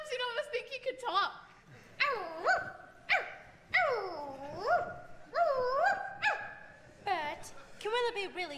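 A dog barks and whimpers on a stage during a high school production of Mary Poppins, giving a run of separate yelping barks and whiny cries with short pauses between them, close and clear.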